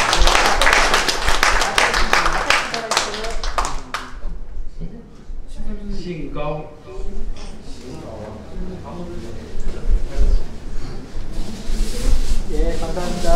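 Audience applause during an award presentation at an art exhibition ceremony: a burst of brisk clapping that stops after a few seconds, followed by a host speaking over a microphone with a few scattered claps.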